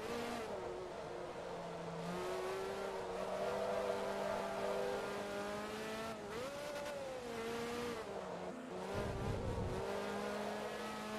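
Ferrari race car engines in Forza Motorsport 2 whine steadily at high revs, pitch rising and dipping with gear shifts, with a brief rumble near the end.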